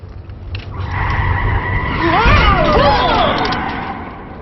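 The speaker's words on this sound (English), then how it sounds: "Stop the car!" A car skids to a stop, tires squealing loudly in rising and falling sweeps over engine rumble for a few seconds.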